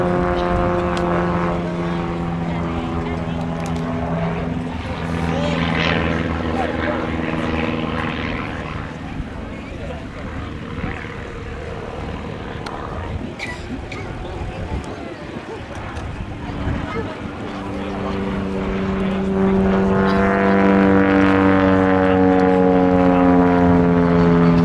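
A propeller aircraft flies an inverted pass down the display line at the 2019 East Kirkby airshow, a loud steady drone whose pitch drops as it passes and rises again as another approaches, with a voice commentating over it.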